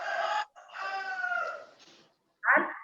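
A chicken giving a drawn-out crowing call followed by a short sharp squawk, close and clear with no talk over it.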